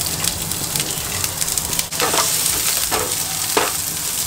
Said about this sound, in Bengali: ওর মধ্যে পেঁয়াজ দিয়ে দেবো আমি